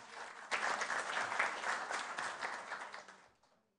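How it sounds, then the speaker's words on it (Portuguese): Audience applause during a special session of a Brazilian legislative chamber: dense, steady clapping from a large room that swells after a brief softer start, then tapers off and fades to silence near the end. "gostaria de pedir também uma salva de palmas"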